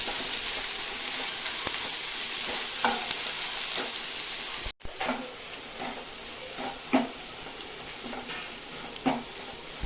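Soybean chunks fry in hot oil with a little salt and turmeric, a constant close sizzle broken by occasional spatula scrapes and stirring clinks, with a brief dropout midway.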